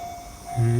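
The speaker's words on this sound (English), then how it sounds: "And here's my train." A train arriving with a low rumbling hum and a rising tonal whine, close and loud, swelling over less than a second.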